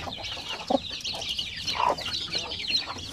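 Backyard chickens cluck softly nearby, with a couple of sharper clucks standing out over a low, steady farmyard background.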